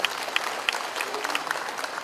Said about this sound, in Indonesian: Dan ini harus tepuk tangan untuk semuanya.